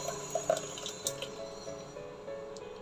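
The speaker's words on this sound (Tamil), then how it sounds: "நம்ம மிக்ஸி ஜாரில் அடித்தது இதை அப்படியே ஊற்றி வடிகட்டிக்கலாம்" Blended juice is poured from a mixer jar through a strainer, giving a soft, continuous liquid trickle with a few light splashes and clinks at the start, fairly quiet and close.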